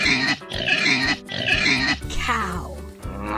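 A pig grunts and oinks in a few rough, noisy bursts, close and loud, ending in a squealing snort.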